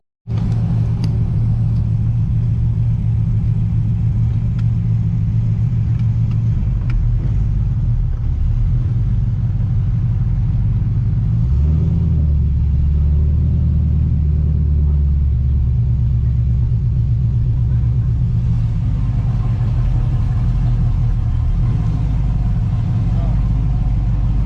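An LS-swapped Infiniti G35 rumbles steadily at the drag strip, its V8 engine droning low and loud throughout, with a voice talking over it.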